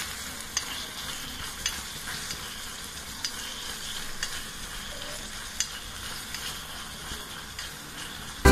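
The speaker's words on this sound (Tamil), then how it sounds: "இப்படி வதங்கிட்டு இருக்கான் பாருங்க குட்டி அடுப்பில்." Tomatoes and onions sauté on a tiny toy stove for miniature mutton biryani, a steady close sizzle with occasional faint stirring clicks, no voices.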